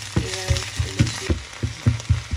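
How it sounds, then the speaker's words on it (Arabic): Onions frying in olive oil in a pan give off a steady close sizzle broken by a series of regular soft thumps and scrapes of stirring, with no talking. "هاو شوفو كيفاش تقلى البصل ديالنا"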